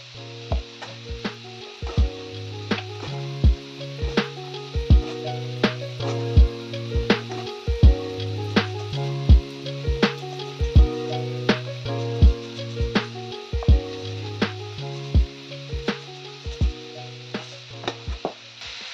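Vegetables fry in a pan in a home kitchen, with a steady sizzle under repeated sharp clicks and knocks from stirring, close and continuous.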